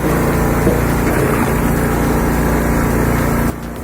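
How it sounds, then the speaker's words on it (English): A homemade log splitter driven by a 7.5 horsepower gas engine with an RCD 250 gearbox runs at a steady, loud idle-like drone, cutting out sharply near the end. "I've seen a lot of cool DIY machines, but this log splitter, it's on a whole new level."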